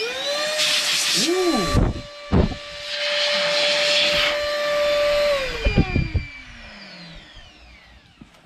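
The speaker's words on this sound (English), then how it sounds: "I'm going to try this Meco Eleverde duster." Meco Eleverde mini handheld compressed air duster fitted with a super small nozzle, loud close blasts of hissing air in several bursts with a whining motor tone that winds down at the end; a voice briefly exclaims.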